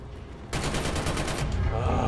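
Rapid gunfire from a first-person shooter, Killzone Shadow Fall online multiplayer, bursts in loudly after a quiet half second and keeps rattling on with dense, close shots.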